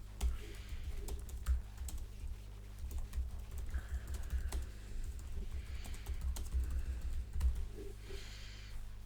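Steady typing on a computer keyboard, with quiet, irregular key clicks continuing throughout over a low hum and no talking.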